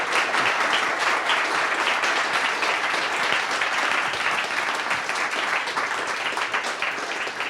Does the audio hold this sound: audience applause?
yes